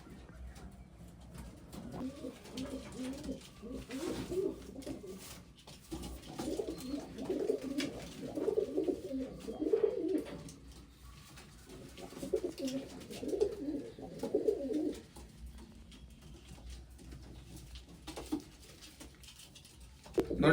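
Domestic pigeons coo in repeated soft, throaty bursts at a home loft, with several birds calling in overlapping clusters and brief pauses between, close by and moderately quiet.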